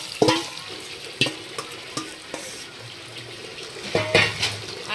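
Marinated chicken meat goes into a pan of onions fried until reddish for a chicken curry, sizzling steadily while a spoon clatters against the pan in several sharp knocks; no one speaks.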